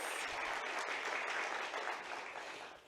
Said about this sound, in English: they really do deserve a round of applause